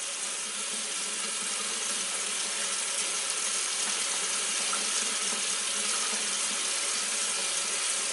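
Warm water trickles and swishes into a brush cleansing palette at a sink, a steady close wash of running water with faint scraping of the palette's ridged surface throughout, with no talking.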